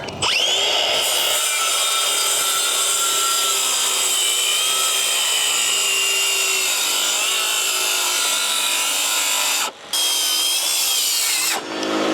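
A Makita cordless saw cuts through wooden beams in one long continuous high-pitched whine, loud and close, briefly dropping out near the end before spinning up again.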